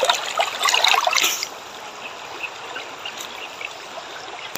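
A river flows with a steady, gentle trickling rush. It is louder and splashier for the first second or so, then settles into a soft, continuous burble with no talking.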